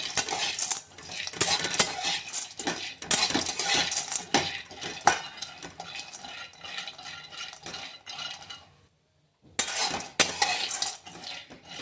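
Cashews being dry-roasted and stirred in a pan for homemade laddus, with steady scraping and rattling clinks of nuts against metal, close and continuous, broken by a short silent gap before the stirring resumes.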